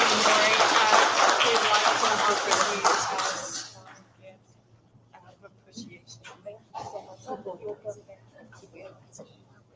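Applause from an audience at a soup social gathering, dense clapping for the first few seconds before fading out, followed by scattered sounds and murmuring voices.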